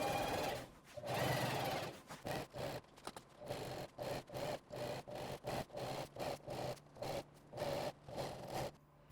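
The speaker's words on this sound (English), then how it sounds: "We'll then head over to the sewing machine" Sewing machine running a quarter-inch seam along the zipper edge of a 24-litre duffel bag: one long whir, then a steady series of short stitching bursts separated by brief pauses.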